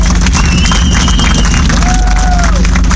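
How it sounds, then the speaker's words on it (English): An outdoor crowd at a World War II tank reenactment event in St. Louis applauds and cheers for the reenactors who brought a tank, a loud, dense wash of clapping with whistles rising through it. "I want you all to give a round of applause to thank these guys"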